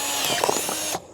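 A brief, loud whirring grind of a drill biting into a plastic container, lasting about a second before cutting off abruptly.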